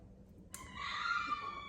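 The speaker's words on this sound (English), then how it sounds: "the dog is screaming" A dog's shrill, high-pitched scream breaks out suddenly and holds for over a second, loud and strained, heard nearby in a quiet home.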